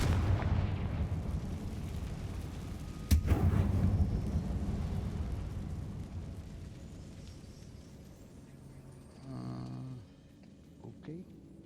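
A Confringo fire spell from a wizard video game bursts with a sharp explosive crack, then a long rumbling boom slowly fades. A few faint tonal game sounds follow near the end.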